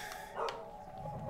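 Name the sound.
dog barking in Prince of Persia: The Sands of Time video game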